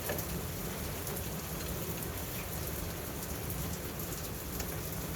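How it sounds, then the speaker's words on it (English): Steady rain pours outside a garage, a dense even hiss of drops that carries on without a break, with no voices over it. "I don't know if you guys can hear the rain"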